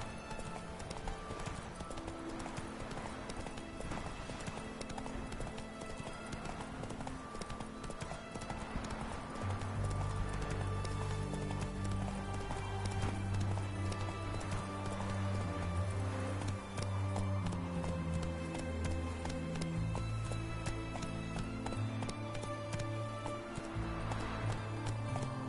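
Roach Junior, a horse in the video game Witcher 3, gallops with a steady, loud clip-clop of hooves throughout, joined partway by a low droning musical score underneath; no talking.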